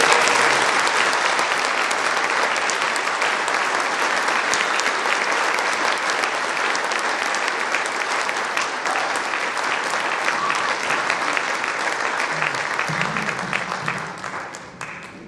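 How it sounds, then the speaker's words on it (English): Sustained audience applause for a symphony band at a spring concert, dense and steady for about fourteen seconds before tapering off at the end, with no talk over it. "So please give another round of applause to the symphony."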